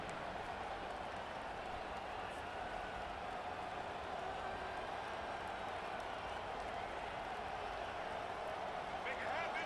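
Broadband stadium crowd roar from the NCAA 25 college football video game, a steady loud wash of cheering fans during a first-and-goal Michigan drive, continuous throughout without a break.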